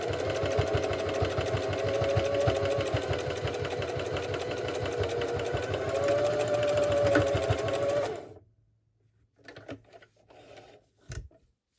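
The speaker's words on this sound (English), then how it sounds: "We're going to sew that half circle across where the seam's going." A sewing machine runs steadily for about eight seconds, stitching a curved half-circle seam across a fabric headband, with a continuous rapid mechanical chatter, then stops, leaving faint handling clicks and rustles.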